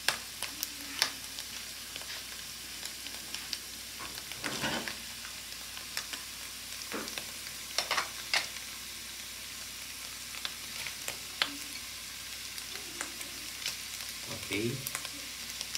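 Salmon belly sizzles and crackles quietly in a pan, a steady soft frying hiss with scattered sharper pops and a few louder bursts.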